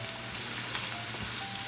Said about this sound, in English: We're going to saute our onion until they get translucent.